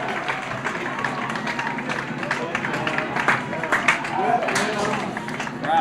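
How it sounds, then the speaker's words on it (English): Crowd at a 2004 high school baseball game between Concord and Torrington, a steady wash of scattered clapping, shouts and cheering from the stands, fairly distant and continuous, with a commentator's voice mixed in. "Crowd trying to get into this."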